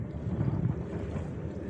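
Strong wind buffeting a microphone on open water during a fishing trip, a low steady rumble with gusty swells and no clear talk.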